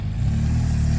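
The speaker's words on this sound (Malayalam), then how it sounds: "BMW GS 1200 ആണെന്ന് തോന്നുന്നു." A BMW GS 1200 motorcycle passing near a road by a school ground, its engine a loud, steady low rumble sustained throughout with no voices.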